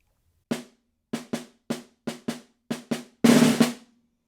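Snare drum etude measure played alone up close: a string of crisp single strokes in uneven rhythm, closing with a louder sustained buzz roll, snares ringing briefly between hits.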